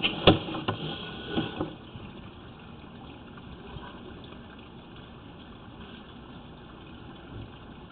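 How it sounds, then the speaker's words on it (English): Water runs down a tiled drain line beyond an ABS clean-out, a steady low wash and trickle throughout, with a few knocks near the start. "That's just some water flowing down the tile"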